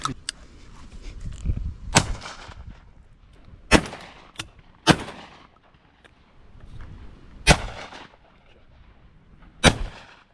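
Shotguns fire during pigeon shooting over decoys, about six sharp, loud cracks spaced a second or more apart, some close together, with faint background rustle between.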